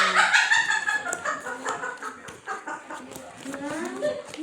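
Chickens cluck and squawk up close in short, uneven bursts, with a few sharp peeps scattered among them.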